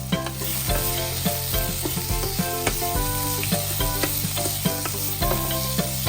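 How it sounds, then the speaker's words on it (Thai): Chinese sausage and holy basil stir-fried in a pan over medium heat, a steady close sizzle broken by repeated scraping and clattering strokes of the spatula throughout. "เราผัดพอให้เครื่องเข้ากัน"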